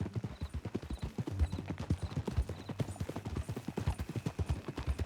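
Steady rhythmic clip-clop of a horse's hooves from Red Dead Redemption 2, close and continuous at a walking or trotting pace with no talk over it.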